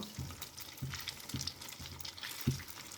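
Beef jali kabab browning in a pan, a steady low sizzle with soft periodic thumps and stirring scrapes, fairly quiet and close, no voices.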